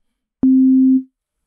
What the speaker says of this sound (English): From there, we change the wavetable position to a sine wave.